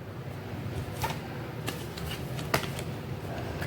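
Tarot cards are shuffled and drawn near the listener, making soft papery riffling and several crisp snaps and flicks over a quiet room.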